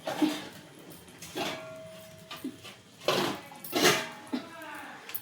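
A handled metal lid is set onto a pot of milk on the stove, producing several light clinks and clatters of metal on metal, close and fairly quiet.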